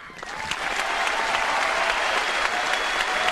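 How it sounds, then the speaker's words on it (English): Steady, dense applause from a large audience at a professional bowling championship final, loud and continuous throughout without a break. "Another round of applause"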